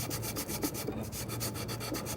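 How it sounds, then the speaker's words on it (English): A sanding block rubs a wooden dowel plug down flush with the surrounding wood, giving steady, close back-and-forth scratchy strokes in a continuous rhythm with no talking. "sand that down flush"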